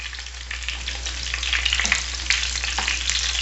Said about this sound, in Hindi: अब मैं इसमें डालूँगी 1/4 टीस्पून से भी कम राई के दाने, मस्टर्ड सीड्स, और इसे क्रैकल होने दूँगी।